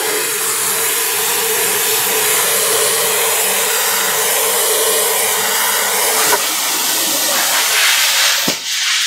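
Steady, loud hiss of compressed air rushing from an ARC SD4i spray gun nozzle with the trigger half pulled, continuous throughout with a brief dip near the end.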